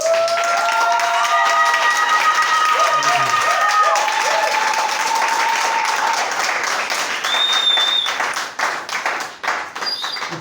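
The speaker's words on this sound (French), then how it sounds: "Acclame pour Jésus." Church congregation in Gabon applauding and cheering for Jesus, a dense sustained roar of clapping with voices and whistles, fading slightly toward the end.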